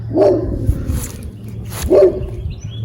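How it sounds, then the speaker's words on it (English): A neighbor's dog barks outdoors in a garden, giving two loud, close barks about two seconds apart over a low steady hum. "Got the neighbor's dog barking at me."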